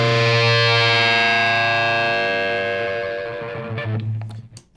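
A sustained, heavily distorted electric guitar double stop through a Z Vex Machine distortion pedal rings loudly with a warbling bent pitch, then decays into choppy, sputtering fragments.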